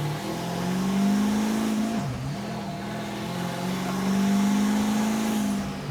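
Scarbo SV Rover hyper truck with a 1500hp twin-turbo V8 revving close by, a loud sustained engine drone that dips briefly midway and then swells again.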